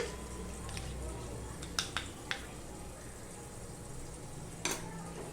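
Potatoes frying in a pan of oil give a steady, quiet hiss with a few sharp clicks and taps of a utensil scattered through it, with no voices heard.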